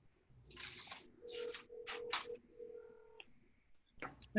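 Cell phone call being dialed during a board meeting, a short run of distinct key tones followed by a steady ringing tone, close and fairly quiet, with faint rustling around it.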